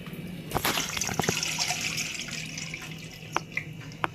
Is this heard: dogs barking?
no